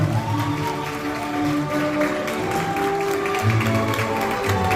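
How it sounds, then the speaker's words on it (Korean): An audience applauds steadily throughout a wedding ceremony, continuous clapping with music underneath. "네, 큰 박수 부탁드립니다."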